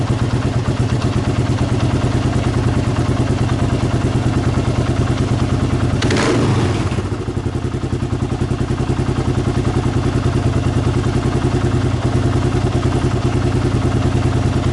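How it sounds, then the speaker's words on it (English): A Kawasaki KLR 650 engine idles with a steady, close, rhythmic putter around 1000 RPM, broken once by a short blip of revving before settling back to idle. "Sometimes it takes just that few little revs"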